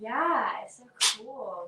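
A single short, sharp sneeze bursts out once between stretches of casual conversation, fairly close and loud compared with the voices around it.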